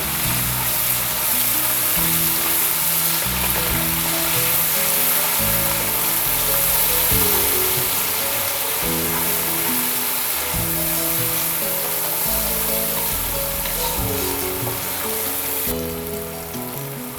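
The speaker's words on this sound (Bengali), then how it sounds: "আদাটাকে একটু ভেজে নেবো" Ginger paste fries in a pan with a steady close sizzle and hiss, while a rhythmic mechanical whirring hum pulses underneath throughout, no talking.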